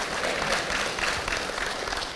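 A congregation clapping at an evening prayer service, a dense continuous patter of many hands, fairly close and steady throughout with no voices over it.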